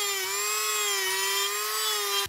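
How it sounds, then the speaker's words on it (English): A power drill bores holes into a handmade ice fishing lure to make room for lead, giving a steady, loud, high whine with a slight waver in pitch that holds for about two seconds and then stops abruptly. "So I'm gonna drill out the space for the lead"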